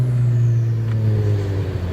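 A Cadillac ATS-V with a Borla exhaust holds a loud, close, steady engine drone with a slight rise in pitch, no talking over it.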